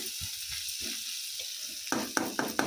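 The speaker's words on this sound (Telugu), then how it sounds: "తాలింపు అయితే వేగిపోయిందండి ఉల్లిపాయ ముక్కలు పచ్చిమిర్చి ఎండుమిర్చి అన్నీ వేసాను" Onion pieces with green and dry chillies sizzle softly in hot oil as a tempering for an amaranth-leaf fry, the quiet crackle giving way to a few sharp spoon-stirring scrapes near the end.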